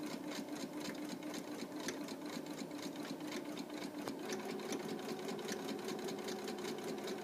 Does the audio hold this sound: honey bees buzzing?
no